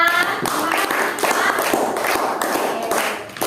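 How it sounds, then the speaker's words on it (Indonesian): A classroom of children claps together, a dense burst of quick hand claps close by, mixed with excited young voices throughout. "Tepuk tangan untuk kita."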